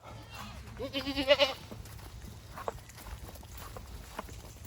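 A goat bleats a few times nearby, a short wavering call, amid rustling and footsteps on the ground.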